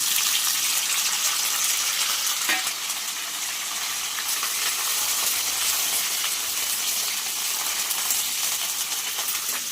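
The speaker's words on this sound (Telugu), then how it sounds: "తాలింపు మంచిగా వేగింది" Onions, curry leaves, dried red chillies and garlic sizzle in hot oil in a pan for a mango-carrot chutney tempering, a steady, loud frying hiss throughout with no talking.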